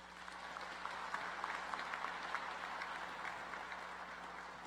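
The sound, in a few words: commencement audience applause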